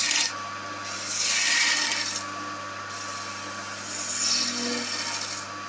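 Oak being shaped on a powerful wood lathe, with the tool rasping and scraping against the spinning wood in rising and falling waves, close and loud and with no talking.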